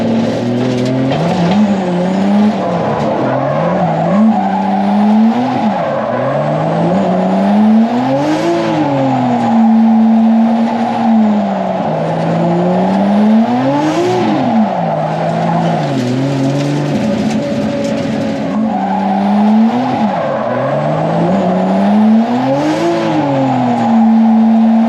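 A car spinning drifting donuts, engine revving in repeated swelling cycles with continuous loud tire squeal rising and falling as it circles, close and sustained with no talk.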